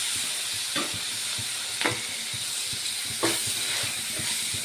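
Chopped tomato frying in a pan with turmeric for a poori curry, a steady close sizzle with soft stirring scrapes and a few sharper spatula strokes against the pan.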